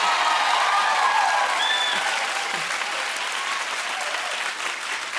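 A television studio audience claps steadily, a full, even wash of applause with a few faint whistles and shouts early on, tapering slightly toward the end.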